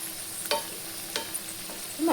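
Banana flower fritters deep-frying in oil, a soft continuous bubbling hiss punctuated by a few brief scraping clicks of a slotted spoon or turner against the pan.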